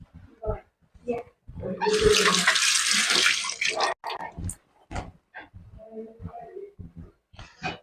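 Water gushing from a tap as hands are washed, a loud close splash lasting about two seconds, with people talking before and after.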